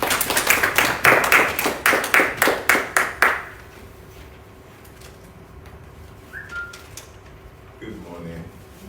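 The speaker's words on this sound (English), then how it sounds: "I want to applause you." A group of listeners claps at a dyslexia awareness event, a brief burst of rhythmic, fairly loud hand claps lasting about three seconds before fading into quiet room tone with faint voices.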